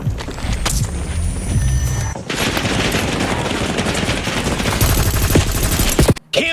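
Dense rapid gunfire from the Warzone video game, loud and continuous bursts of automatic weapons layered over one another, ending in a brief abrupt drop near the close.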